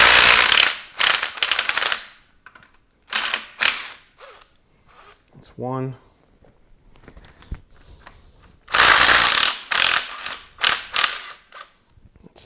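A pneumatic impact gun tightens bolts on a 1990 Suzuki Samurai. It fires in several loud, rattling bursts close by, with quiet pauses and clinks of tools between them and a brief spoken word.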